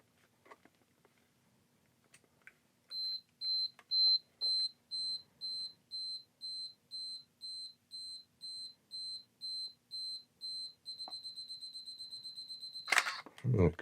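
Canon EOS Elan (EOS 100) film SLR running its self-timer: a steady series of high electronic beeps that quickens into a rapid run near the end, then a sharp shutter clack, close and quiet against faint handling noise.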